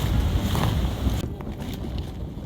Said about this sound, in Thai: ลมค่อนข้างแรงเลยนะครับ